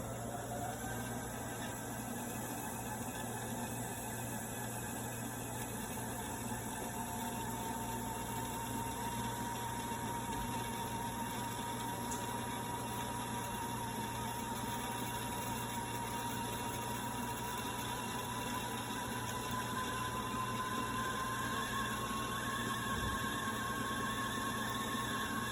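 A sewing machine winds a bobbin with a steady, continuous motor whine whose pitch rises slowly, over a constant background hum, with no talking.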